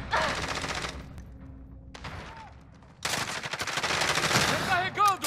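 Loud bursts of automatic gunfire crackle in Call of Duty: Modern Warfare, with a brief pause between volleys and sharp ringing tones near the end.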